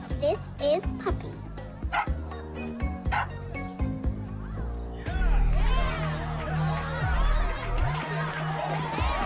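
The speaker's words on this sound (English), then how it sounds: "My very own puppy." A puppy yips and barks in rapid, repeated bursts at close range, mixed with children's voices and a busy party background, and music and singing follow.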